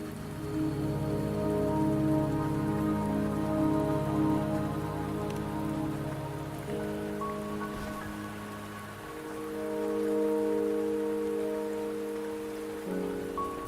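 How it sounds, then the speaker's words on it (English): Steady rain falls in the video game Wuthering Waves, a constant soft patter of drops continuing unbroken over sustained musical tones, with no voices. "the rain won't last much longer"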